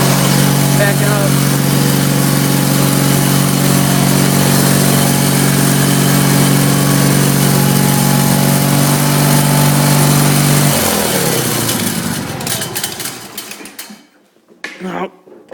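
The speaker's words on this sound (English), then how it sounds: "Now, that's my Case hydraulic drive 446 tractor." Case 446 hydraulic drive garden tractor engine running steadily with a loud droning hum near the microphone, then winding down and cutting off near the end.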